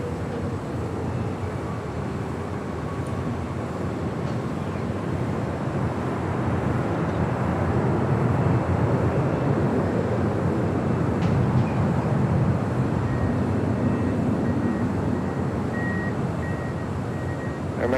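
Alaska 1418 jet taking off from runway 25 right at LAX, steady low engine roar swelling slightly louder midway and holding, with a thin high whine coming in near the end.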